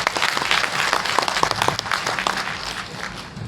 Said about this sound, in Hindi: एक बार फिर से हम लोग को जोरदार तालियां बजाना होगा